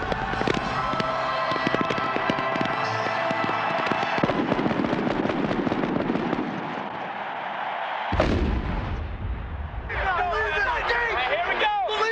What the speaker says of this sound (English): The fireworks that lit up the Miami sky